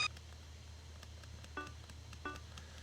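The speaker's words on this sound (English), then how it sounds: "the PDA is ringing" A PDA rings in the PlayStation game Jikuu Tantei DD2, two short electronic chirping bursts a moment apart over a low steady background hum, faint and thin.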